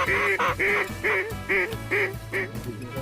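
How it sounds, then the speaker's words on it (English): Ducks quack overhead at dawn during a goose hunt, giving a rapid series of about seven loud, nasal calls in steady rhythm close by. "Ducks over top."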